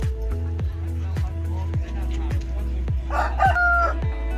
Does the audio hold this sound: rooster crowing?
yes